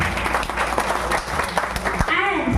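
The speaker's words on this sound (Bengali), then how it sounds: "সবাই মিলে একটু জোরে হাততালি হোক।" Audience at a live stage event marking a music-and-dance group's 17th anniversary breaks into steady applause, a dense continuous patter of many hands with cheering voices rising over it toward the end.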